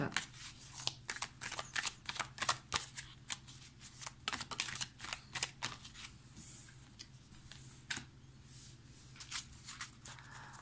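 Amethyst Love oracle cards being shuffled by hand, a steady run of quick papery riffles and flicks up close, with no talking over them.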